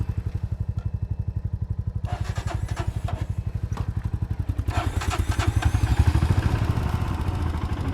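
A poorly maintained motorcycle engine thumps in a fast, steady rhythm while riding from Shanti Stupa in Leh, Ladakh, growing louder and rougher as it revs partway through.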